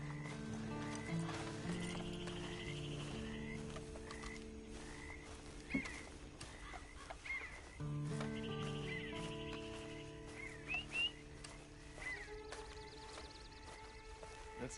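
A horse in Red Dead Redemption 2 clip-clops along with steady hoofbeats and gives a whinny, heard over a constant game ambience thick with croaking frogs.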